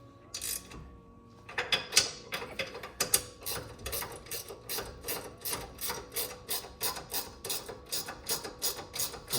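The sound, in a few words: ratcheting box wrench turning a bolt on a truck bumper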